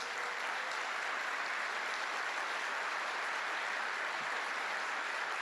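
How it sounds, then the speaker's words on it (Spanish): Sustained, steady applause from an audience in a church gathering, dense and even throughout with no pauses and no voices standing out. "un aplauso por favor"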